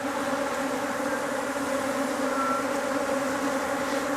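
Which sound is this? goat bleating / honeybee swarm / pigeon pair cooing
honeybee swarm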